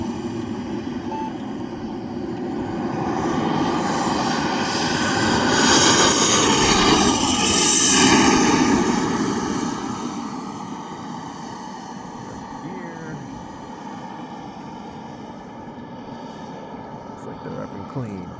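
A Hangar 9 Hawk RC model jet on its maiden flight roars past, swelling from a steady whine to a loud peak midway and then fading back to a distant drone, with faint voices at times.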